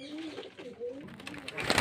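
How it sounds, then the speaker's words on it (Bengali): Red-bordered pigeons coo in low, rolling, repeated phrases, close by, before a burst of rustling, flapping noise near the end. "এই যে দেখুন লাল বর্ডারের পায়রা।"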